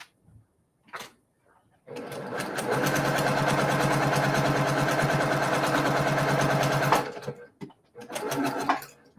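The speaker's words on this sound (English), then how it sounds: "I'm going to turn this around so that I'm sewing on the correct side of it" A sewing machine stitches fabric for a quilted sampler block in one steady, close, continuous run of several seconds, with brief handling noises and pauses before and after.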